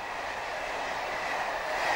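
Steady, loud rumble of a Class 90 electric locomotive-hauled train on the Norwich line out of Liverpool Street, continuous and close throughout with no clear rhythmic wheel clatter.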